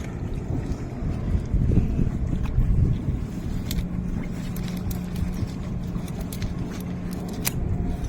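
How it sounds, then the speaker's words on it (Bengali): A tourist boat passes near a fishing spot in the Sundarbans, its steady low engine drone rumbling along with wind noise at a moderate distance, holding fairly even throughout. "দেখুন টুরিস্ট বোট যাচ্ছে আমাদের কাছ থেকে"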